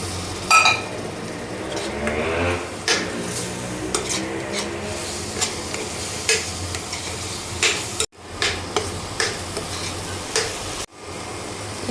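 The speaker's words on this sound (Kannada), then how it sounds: "ಕಾಟು ಹೋಗೋ ತನಕ ಫ್ರೈ ಮಾಡ್ಕೋಬೇಕು" Chana masala with coriander, cumin and dry mango powder being stirred and fried in a pan, a steady sizzle under repeated scraping and clinks of a spoon against the metal, close and fairly loud.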